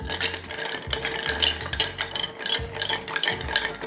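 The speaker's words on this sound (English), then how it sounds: "Take your bar spoon and give it a nice stir." A vermouth and sherry Bamboo cocktail stirred with a bar spoon, producing close, rhythmic rattling and clinking of ice against the glass in quick repeated swirls, no talking.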